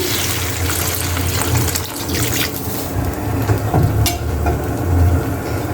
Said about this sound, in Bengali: আমার শুক্তার মধ্যে একটু জল দিয়ে দেবো